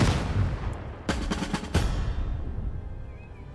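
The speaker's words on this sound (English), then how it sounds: "Anti-tank gun missed us." Anti-tank gun fire in Total Tank Generals: a rapid cluster of sharp, loud booming shots about a second in, then a final blast, with rumbling echoes trailing into quiet.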